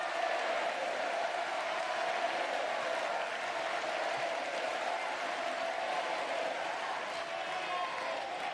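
Applause from a crowd backing the French team at a wheelchair tennis men's doubles semi-final between Great Britain and France, a steady, dense wash of clapping that holds at an even level throughout.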